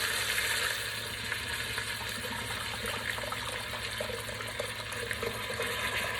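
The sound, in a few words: beef roast searing in an Instant Pot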